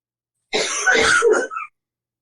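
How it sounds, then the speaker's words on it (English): A single harsh, throaty cough, close and fairly loud, with a short second rasp right after, set against silence. "That didn't sound like a kid cough."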